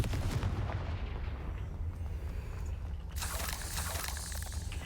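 A Confringo fire spell cast in Hogwarts Legacy, a rumbling booming blast that fades, then a bright crackling burst of fiery noise near the end, loud and close with no talking.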